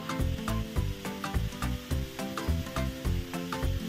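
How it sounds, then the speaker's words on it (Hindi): A spoon or spatula stirs pav bhaji mixture in a pan, scraping in a quick steady rhythm of repeated strokes, close and clear with a faint sizzle and no talking. "ब्राउन होए तब तक ऐसे चलाते रहो"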